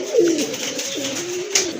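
Pigeons coo in a low, rolling murmur at a pigeon farm selling fancy breeds, one bird close and clear over a soft background of fluttering and other birds, with no talking.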